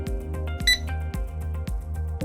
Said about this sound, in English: the device will automatically capture an image alongside a beep sound